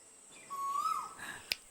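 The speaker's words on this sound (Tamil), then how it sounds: "அக்கா குருவியே தான் அது." A common hawk-cuckoo calls once from a tree, a clear rising whistled note that is faint and a little distant, followed by a sharp click, with no talking.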